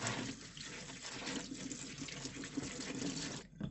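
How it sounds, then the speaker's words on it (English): Running tap water rinses strained ingredients in a kitchen sink during a baking challenge, a steady, moderately quiet splashing flow that stops abruptly near the end. "Rinse them a bit."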